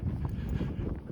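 Horses walking with hooves clip-clopping, a dense jumble of low, muffled thuds over wind rumble outdoors, close and continuous for a brief moment.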